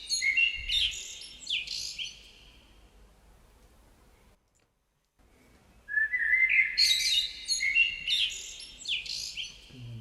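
A music track plays a birdsong sample: bright, fast chirps and whistles in two bursts, separated by a near-silent gap of a couple of seconds, loud and clean with no talking.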